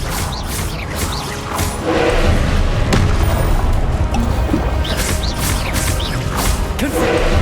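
The Expelliarmus spell cast mid-battle in Hogwarts Legacy, a PC video game: heavy booms, whooshes and thuds roll on loudly and steadily with a sharp surge around two seconds in.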